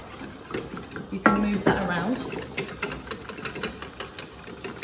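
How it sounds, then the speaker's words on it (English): Roux sauce for mac and cheese being whisked in a pan, brisk repeated clicking and scraping of the whisk against the metal, with someone talking over the first half. "Give it a good whisk."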